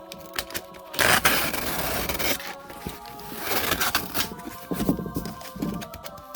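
A box cut open at home, the blade scraping and tearing through cardboard and tape in rough, uneven bursts, with rustling and scuffing between the louder strokes.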